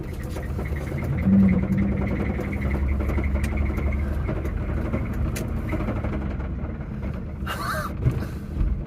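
A car engine running out of fuel labors at low revs, rough and droning throughout, with a brief higher whine near the end.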